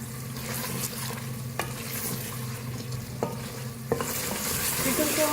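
Chicken being bhuna-fried over a high flame in a pot, with a steady close sizzle and occasional stirring scrapes, no voices.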